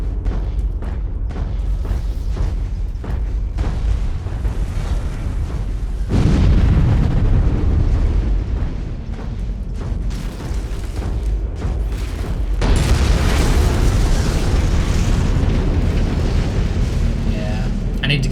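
Heavy booming explosions from MechWarrior 5 gameplay rumble and crackle in repeated bursts, deep rolling blasts layered over ongoing battle noise, loud and dense throughout.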